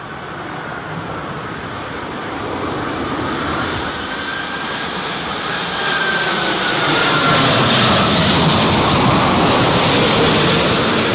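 Airliners landing at Heathrow airport during Storm Isha, a steady loud roar of jet engines mixed with heavy wind rush that swells louder toward the end, with no voices.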